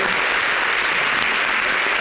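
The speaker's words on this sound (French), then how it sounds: "Voilà ça. Applaudissez." An audience applauds loudly and continuously at a French trophy ceremony, a dense, even wash of clapping with no pauses across the short stretch.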